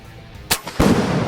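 A single sharp air rifle shot fires on an outdoor shooting range, followed by a second louder crack and lingering noise, with no talk during the shots.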